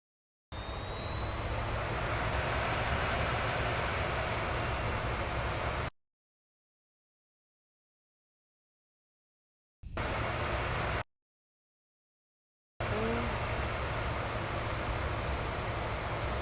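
A fixed-wing airplane engine in the Infinite Flight simulator roars as a loud, steady broadband drone. It cuts out abruptly twice and resumes each time, with no talk over it.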